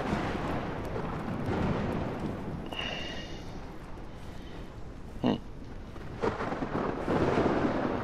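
Thunderstorm in the video game Ark Survival Ascended, with steady rain hiss and a low rumbling roar throughout, broken by a couple of brief cracking thunder hits partway through.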